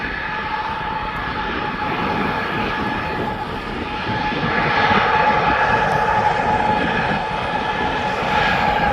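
A passenger airliner on final approach to land at East Midlands Airport, a steady roaring jet engine drone that grows slightly louder as it nears, with no speech.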